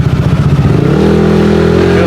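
A motorcycle rides through city traffic, its engine loud and close, chugging at first and then settling into a steady droning tone as it picks up speed.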